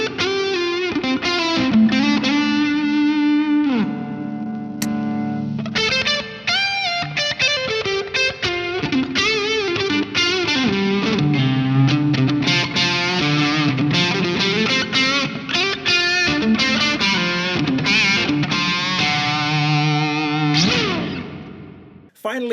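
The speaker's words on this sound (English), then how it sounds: "the compressor will really just add a little bit of extra sustain, a little bit of extra push on some lead tones" An electric guitar plays lead lines through a Thorn Soundlabs Steam compressor and a Universal Audio Heavenly Plate reverb, giving sustained, driven notes with a reverb wash, loud and continuous from start to finish.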